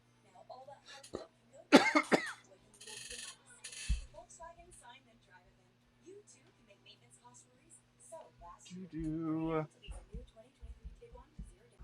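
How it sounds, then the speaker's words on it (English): A few sharp coughs burst out near the start, followed by quieter throat noises and bits of speech, with a louder voiced sound near the end. "I started to do that and started coughing"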